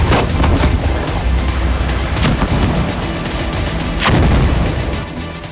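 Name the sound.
tank and artillery shelling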